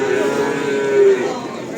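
A local Simmental calf about five to six months old moos once at a cattle market, a loud, close, sustained low call.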